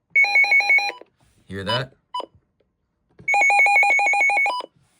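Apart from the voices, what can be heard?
weather radio siren alert and button beeps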